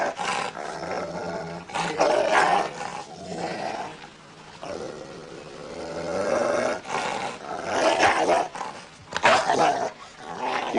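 A large dog named Baron growling and snarling, close and loud, in long rough rumbling bursts that rise and fall over several seconds with brief breaks, no talk.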